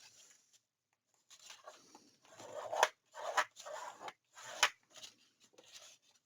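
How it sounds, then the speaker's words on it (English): Paper is folded and burnished into a craft pocket for a scrapbook album, heard as close, soft rubbing and scraping strokes in uneven bursts separated by brief pauses. "I'm going to go ahead and fold this up and burnish."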